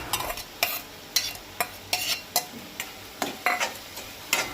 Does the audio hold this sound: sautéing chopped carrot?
yes